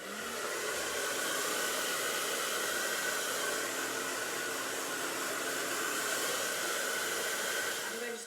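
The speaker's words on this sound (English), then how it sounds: "I'm going to show you how I diffuse my hair. And I am drying on cool to warm heat." A hair dryer fitted with a diffuser runs steadily on a cool to warm setting while drying type 4 natural hair, a close, constant airy whoosh lasting the whole stretch with no talking.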